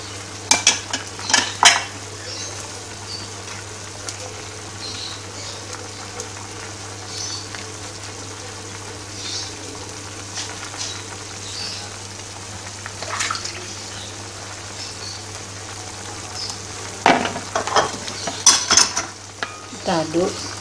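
Sponge gourd stir-fried with leek and celery for a Minang dish, with a steady sizzle under intermittent clinks and scrapes of a spatula on the pan, louder stirring bursts near the start and end, no talking.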